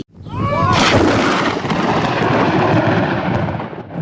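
A loud, deep rumble of summer-storm thunder rolls on for several seconds, close and heavy, after a brief chirp at the start.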